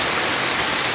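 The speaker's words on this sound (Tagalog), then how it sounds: "Malakas ang hangin. Malakas yung impact ng hangin. Tapos yung ulan." A dense, loud rush of rain and wind, continuous and close, with no pauses in the brief stretch.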